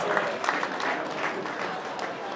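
An audience at a wine tasting event gives a sustained round of applause, steady and fairly distant, with a voice faintly audible under the clapping.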